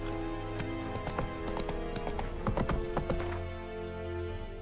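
Horse hooves galloping in The Witcher 3 video game, a rapid, close clip-clop rhythm over a sustained musical score, fading out toward the end.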